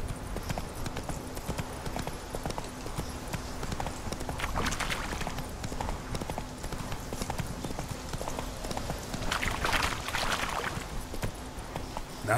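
Geralt's horse Roach in The Witcher 3 video game, hooves clip-clopping steadily throughout with a continuous game ambience bed and occasional louder rustling bursts, no speech.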